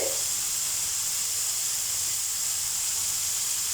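Prawns grilling in a hot pan give off a steady, loud steaming hiss and sizzle that runs unbroken from start to finish.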